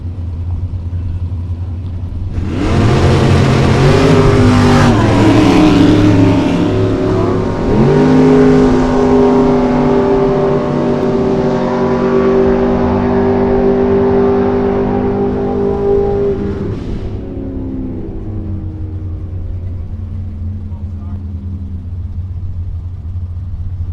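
A 1965 Chevelle stock eliminator drag car at Great Bend launches hard after an idling rumble, its engine roaring loud through rising gear pulls before fading away, leaving a low steady hum.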